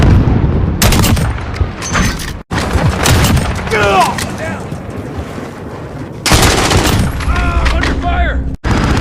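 Sniper rifle fire in Call of Duty Warzone: loud, sharp gunshot booms with echoing tails and mechanical bolt sounds between shots, mixed with other game effects and some voice chatter.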